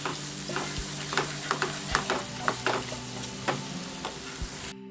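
Soy sauce mixture being stirred for steamed tuna, with a series of light utensil clicks and scrapes against the bowl at an even pace over a steady background hum.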